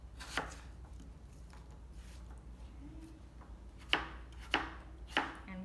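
Knife chopping apples on a cutting board in a home kitchen, a few sharp chops early, then three distinct cuts near the end against a quiet room hum.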